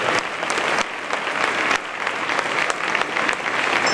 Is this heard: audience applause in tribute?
yes